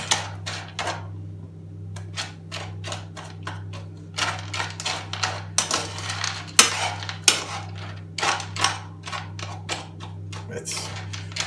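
Spoon stirring a stiff, fridge-cold food mixture in a bowl, giving irregular scraping and clinking strokes throughout over a constant low hum.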